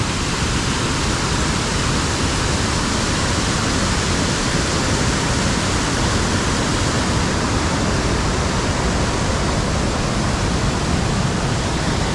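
Heavy November storm water rushing through an undersized pipe beneath a road into an overflowing drainage ditch, a loud, constant, close roar of churning water with no let-up.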